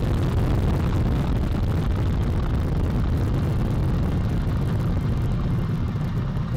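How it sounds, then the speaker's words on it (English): Artemis I rocket liftoff, with four RS-25 core-stage engines and two solid rocket boosters producing a loud, continuous, deep roaring rumble that stays unbroken throughout. "Four RS-25 engines on the core stage and two solid rocket boosters now propelling the vehicle at 128 miles per hour."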